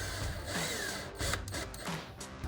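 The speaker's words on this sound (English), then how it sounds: "put a screw in to the bottom of my bumper" A screw being power-driven into the underside of a 2015-2023 Dodge Charger bumper while fitting an MP Concepts chin spoiler, heard as a couple of short, close whirring bursts from the driver.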